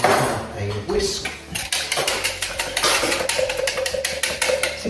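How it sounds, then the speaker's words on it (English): A whisk clinks quickly and steadily against the side of a container while mixing a drink powder into milk, bright metallic taps up close, with a person speaking partway through. "A whisk."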